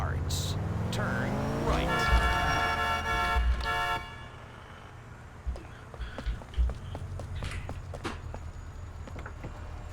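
A car in the video game GTA IV: an engine revs with a rising whine and a horn-like toot, then quieter driving rumble with scattered thumps and a squeal, while someone talks over it.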